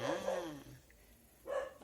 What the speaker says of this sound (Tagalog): Aso mo ba yung maingay?